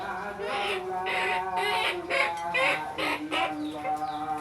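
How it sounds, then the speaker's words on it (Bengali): Hens in a village yard peck at rice and cluck continuously close by, with repeated soft calls and brief louder squawks. "এই যে আমার মুরগি"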